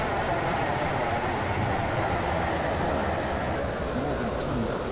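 A video game train runs steadily, giving a dense, continuous rumble of wheels and engine. The noise holds at a constant level for several seconds, with no distinct clicks or breaks.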